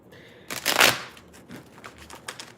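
Tarot cards being shuffled during a live reading, a close burst of riffling followed by lighter scattered card flicks and taps.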